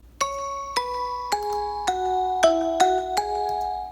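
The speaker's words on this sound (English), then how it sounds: "I thought this bell sound sounded most like the original." A synth bell lead (Nexus 'Shiny Bell 4' patch) plays seven bright, struck notes in a slow stepping melody, each ringing on with shimmering overtones before the next.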